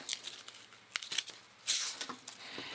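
Scissors cut through hook and loop fastener tape, giving a few quiet scratchy snips and crinkling rasps at close range, irregular and brief, with no talking.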